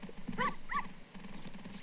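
Two short, yelping barks from a dog in a Zelda randomizer video game, heard over steady game background sound at moderate loudness.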